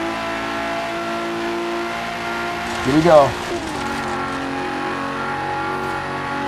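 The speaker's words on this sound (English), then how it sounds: "Absolutely love the sound of the engine coming out of this Regalia." A Final Fantasy Regalia sedan in the Forza Horizon 3 racing game revs and accelerates hard at full throttle, its engine note climbing in a loud surge midway through a steady drone, with someone speaking briefly over it.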